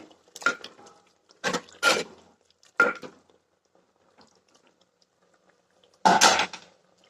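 Oyster mushroom curry being stirred in a clay pot, heard as a few separate scraping, clattering bursts of a spoon against the earthenware, spaced by quiet gaps, close and clear with no talk.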